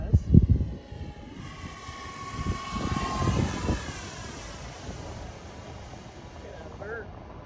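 A twin 40mm electric ducted-fan F-18 model jet whooshes past in a fast sweeping pass on its maiden flight, its whine rising and falling in pitch as it passes, with people talking nearby outdoors.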